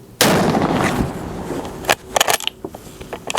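A single loud gunshot from nearby firing practice booms out and rolls into a long reverberating decay, followed by scattered handling clatter and faint knocks close by.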